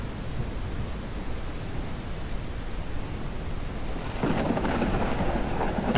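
Rain and thunder in the survival video game Humanitz: steady rainfall hiss with a low rolling thunder rumble that grows louder near the end, no talking.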